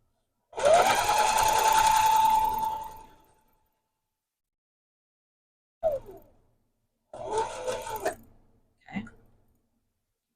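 A sewing machine stitches a quarter-inch seam on a quilt-as-you-go mug rug. It runs in one steady burst for about two seconds near the mic, then gives a couple of shorter bursts and clicks after a pause.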